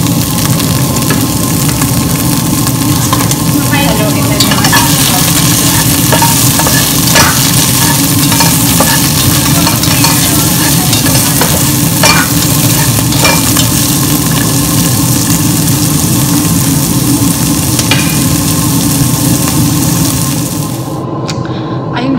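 Ginger and onion stir-fried in a pan for monggo bihon with sardines: a loud, continuous sizzle runs throughout, broken by repeated scraping stirs and light utensil taps, up close, with no talk.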